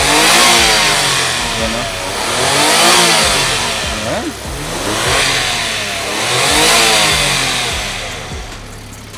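The engine of a Suzuki DA17V mini van revs up and down in slow, repeated swells, loud and close, while someone speaks briefly over it.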